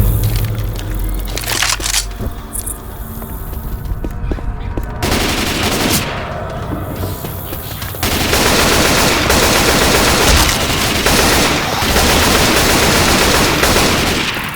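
Dense, continuous gunfire in the zombie shooter video game Left 4 Dead 2, in The Parish campaign: sustained automatic bursts and overlapping shots fill the whole stretch, loud and close, with brief lulls and faint voices underneath.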